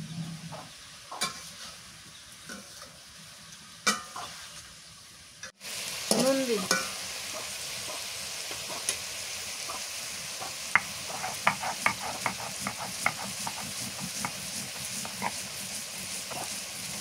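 Green chili, garlic and coriander leaves are ground on a stone shil-pata, giving close, steady rasping scrapes with small clicks, joined by a brief remark from a voice.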